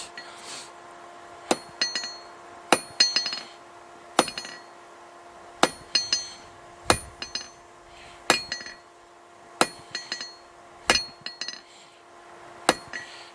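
Hand hammer forging a taper and point on a steel fire poker handle at an anvil, about a dozen light, evenly spaced ringing strikes with short bouncing follow-up taps, close and clear, with no voices.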